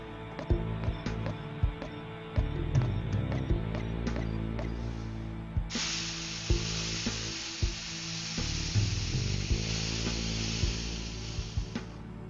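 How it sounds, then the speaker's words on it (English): A drill bores into a barrel in the PC adventure game Runaway: A Road Adventure, with repeated clicking taps followed by a steady high-pitched hiss that runs for several seconds before stopping, no speech over it. "I'll drill a hole in the barrel so the gunpowder falls out into the bucket."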